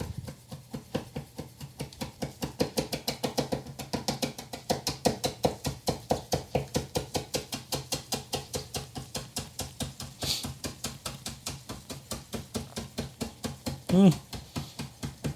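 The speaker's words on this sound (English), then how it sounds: "Okay, so I need to finally chop up my green onions." Steady rapid knife chopping of green onions on a cutting board, a long run of crisp, evenly spaced taps at close range that holds through the whole stretch, with one brief louder knock near the end.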